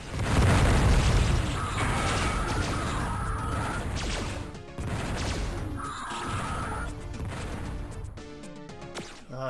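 Gunfire and explosions in the video game Descent, Mars Processing Station level: dense bursts of blasts and weapon fire in repeated waves, loud and busy with brief pauses between volleys.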